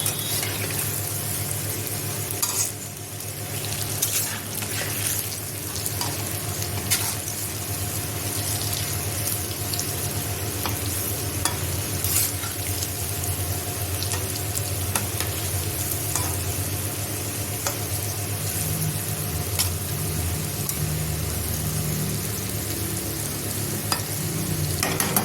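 Palm fritters (tal bora) fry in hot oil with a continuous, even crackling sizzle that holds up close for the whole stretch, with no voices.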